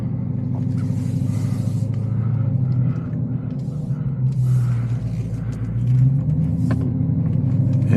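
Dodge Charger Hellcat Widebody driven hard on roads outside Tijuana, Mexico, heard as a steady, loud, low engine rumble from inside the car, swelling slightly around the middle and end with no talk over it.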